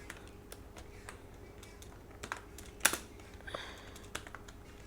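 Typing on a computer keyboard during a Python coding session, soft scattered key taps with one sharper clack midway, quiet and close with no voice over it.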